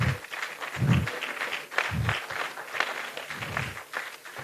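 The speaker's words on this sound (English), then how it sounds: "Don't stop clapping." Audience applause at a pharmacists' association national conference opening ceremony, a moderate, steady patter of many hands with a few low thumps mixed in.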